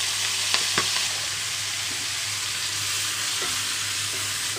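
Chopped spinach (palakura) fries with a steady loud sizzle in a pan, with a few soft scraping knocks as it is stirred, and no voices.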